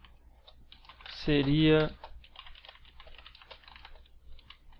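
Light, rapid clicks of a computer keyboard being typed on, faint and close, running as a soft patter through most of the moment, with a short spoken word breaking in near the start.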